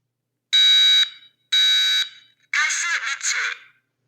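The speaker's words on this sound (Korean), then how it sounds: "가스가 누출되면 이렇게 바로 시끄럽게 알려주고요" A Zinix gas alarm, triggered during a gas leak test, gives two loud, piercing electronic beeps followed by a warbling shriek, close and harsh, with brief gaps between.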